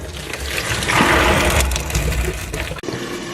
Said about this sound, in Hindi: तो दाल का पानी हमने निकाल लिया है।